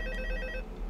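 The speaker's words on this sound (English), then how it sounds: "Another phone call." An electronic phone ring from the video game FNAF 2 sounds twice in quick pulses, then cuts off and leaves a low hum.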